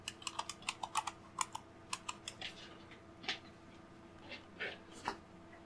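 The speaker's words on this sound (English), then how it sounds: "And then we need to type it again." Password being typed on a computer keyboard during an Arch Linux installation: a quick run of close, crisp key clicks, then slower scattered taps with pauses between them.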